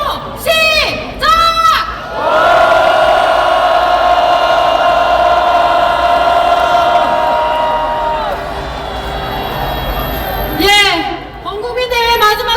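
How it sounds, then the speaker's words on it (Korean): A large crowd at a national citizens' rally in Korea lets out a loud, sustained roar of shouting and cheering lasting several seconds, with short whoops and voices just before and after it. "우리의 외침이 용산 대통령실까지 닿을 수 있도록 큰 함성 부탁드립니다."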